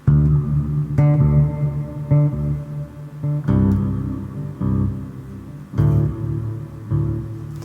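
Electric guitar chords through a delay-reverb pedal are struck every second or two, each swelling into a long, washed-out wash of reverb and delay that lingers between strums.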